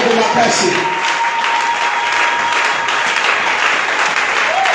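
A church congregation applauding loudly, dense continuous clapping that holds for the whole stretch, with voices in the crowd calling out over it.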